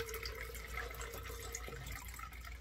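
Water running and draining out of a self-watering LECA clay-pebble pot holding a Dendrobium nobile orchid: a steady, close trickling splash with a continuous gushing wash and no talking.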